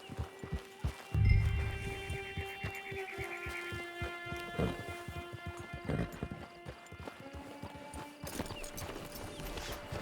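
Horse hooves clip-clopping in the video game Red Dead Online, an irregular series of close, crisp hoof strikes with a short snort near the start and a steady hum underneath.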